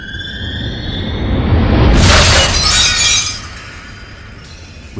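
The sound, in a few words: glass shattering in an explosion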